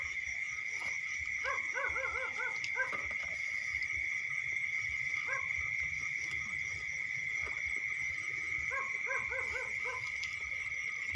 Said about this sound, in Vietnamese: Đây gần nhà chó nó sủa ầm ĩ.